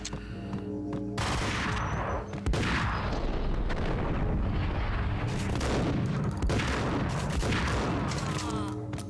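Gunfire in the Max Payne video game, with dense, sustained booming blasts and shotgun-like bursts filling the whole span over a steady loud backdrop.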